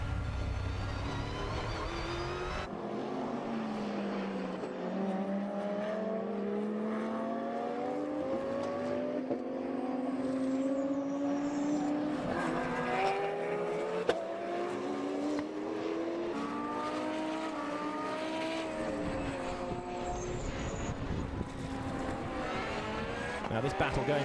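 Porsche and Ferrari GT race cars at Navarra, several engines screaming past in rising and falling pitch sweeps as they battle closely, loud and continuous with commentary over the top.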